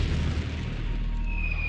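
A muffled low boom rumbles through a strategy war game, a small sabotage blast where a spy is working, heavy and steady for a moment with a faint tone rising near the end.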